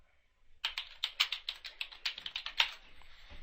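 Fingers type a quick, uneven run of keystrokes on a computer keyboard, close and clear, with sharp clicks and a few harder taps and no voice over them.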